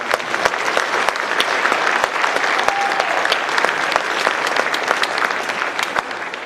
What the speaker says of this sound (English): I wanna give all of these athletes and coaches, everyone here tonight, a round of applause.